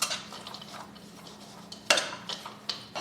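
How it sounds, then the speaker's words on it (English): A spoon scrapes and clinks against a bowl as grated cheese with jalapeno and onion bits is stirred together, with soft rhythmic scraping and one sharper knock partway through. "We're now going to get a spoon out of my drawer, and we're just going to make sure this is blended nice and evenly"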